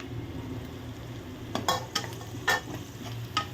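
Curry leaves and green chillies frying in a pan, a steady low sizzle with a few sharp crackles and stirring scrapes at intervals, close and fairly quiet, no talk.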